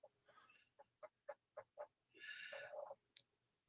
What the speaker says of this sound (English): We're hearing chicken clucking.